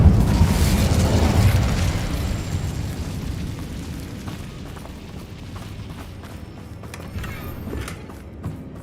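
A fiery burst from the Incendio spell in Hogwarts Legacy erupts loudly at the start, then rumbles and fades over several seconds, leaving faint mechanical clicks and taps.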